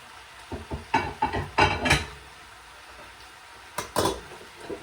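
Beef and peppers are stirred in a frying pan with a utensil, making a series of close scraping clatters in irregular bursts, a quiet pause, then two more stirs, with no talk.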